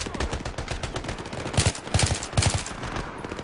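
Rapid automatic gunfire in the Battlefield 3 shooter, bursts of sharp cracking shots in quick rhythmic succession, with heavier, louder volleys near the middle, fairly close and dominant.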